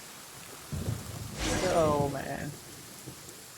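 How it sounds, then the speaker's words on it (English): Steady rain with low thunder rumbling through a stormy Liyue scene in Genshin Impact, a soft wash of downpour beneath a brief spoken voice. "Let us find shelter from the rain."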